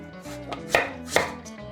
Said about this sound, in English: Then cut the squash in half and scoop the seeds out with a spoon.